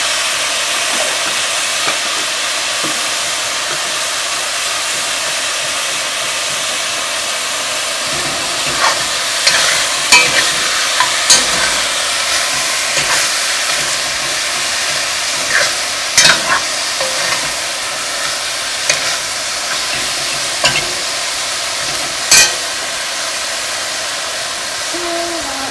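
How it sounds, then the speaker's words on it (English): Half a pound of beef chunks fry in a pan for homemade chili, giving a loud, constant sizzle, while a spoon stirs and scrapes against the pan in irregular knocks throughout. "half-pound beef chunk into the pan. Again, stir well."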